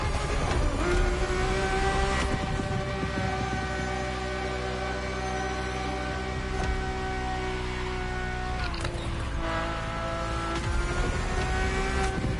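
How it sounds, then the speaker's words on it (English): Ferrari F50 sports car in The Crew Motorfest racing game, its engine holding a loud, steady high-pitched drone with harmonic whine throughout, briefly dipping and rising again as it shifts, with no talk over it. "This was the F50, a sports car that screams performance and racing spirit with every fiber of its being."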